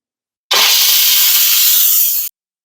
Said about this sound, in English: We're going to go ahead and do a quick release